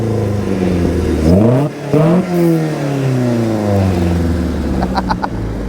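A classic Mini fitted with a Honda VTEC engine fires up and revs, the exhaust note sweeping up and down in pitch through several throttle blips before settling, close and loud.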